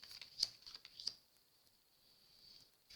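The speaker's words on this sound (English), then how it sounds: "You're going to flip over one card like I did before." Cards from a nine-card logic puzzle are handled and flipped on a surface, giving a few faint, close taps and papery flicks separated by near silence.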